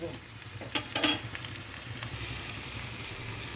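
Mutton being stirred in a pan with ginger and garlic, with a steady sizzle of frying throughout and a few sharper scraping clatters near the start, close and moderately loud with no talking.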